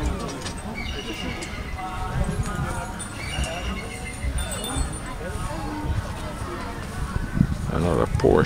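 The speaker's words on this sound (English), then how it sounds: "Meanwhile, the kids are having fun, horse and cart." A horse pulling a cart at a classic farm tractor show in Kalmthout: hooves clop steadily and a whinny rises, all set in a busy outdoor crowd with voices chattering throughout.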